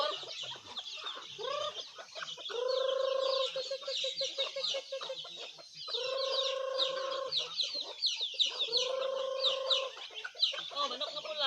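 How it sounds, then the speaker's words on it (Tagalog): Chickens on a rural farm cluck and squawk in repeated drawn-out calls, with a busy chorus of small birds chirping steadily behind them. The sound is close and moderately loud, with no talk. "daghan kay may manok no, pero gagmay pa"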